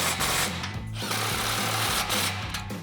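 An impact wrench with a 16mm socket drives bolts on an exhaust hanger while a Ford F-150 dual exhaust is fitted, a loud rattling hammer burst close up lasting nearly three seconds.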